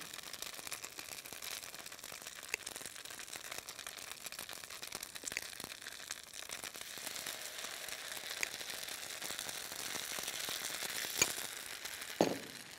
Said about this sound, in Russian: Слышите, как красиво жарится? Какой прекрасный звук. Это готовятся наши полезные оладьи без глютена.